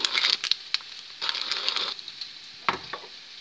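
Vegetables frying in a pan for an omelette give a steady close sizzle, broken by a few sharp crackles and stirring scrapes.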